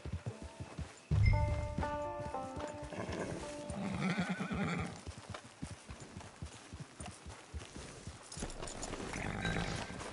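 In Red Dead Redemption Online, a horse whinnies loudly near the start, followed by a steady rhythm of hooves clip-clopping under game ambience and music throughout.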